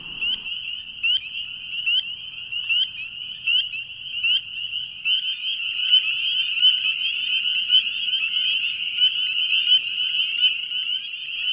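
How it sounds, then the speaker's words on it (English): A dense chorus of spring peeper frogs gives shrill, high peeps that overlap continuously and grow louder and fuller as it goes on. "The peepers are singing strong."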